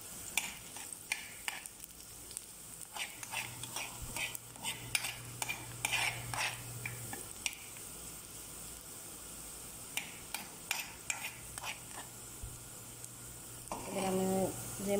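Onions are stirred and fried in a pan until browned, with a soft steady sizzle under repeated sharp scraping and clacking of a spatula, in irregular bursts across the whole stretch; no speech.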